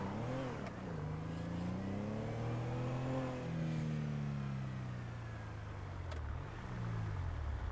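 A car engine in a video game roleplay revs and drones steadily, its pitch rising and falling through gear changes, sounding close and continuous over low background noise.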